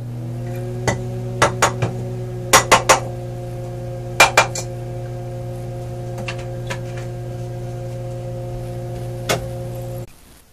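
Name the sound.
microwave oven running while heating a wet towel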